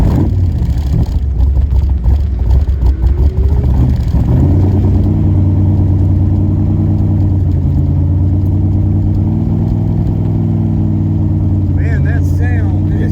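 Classic American car engine revving during a ride: a loud deep roar that climbs and rumbles steadily from inside the car, with people talking over it at the start and end.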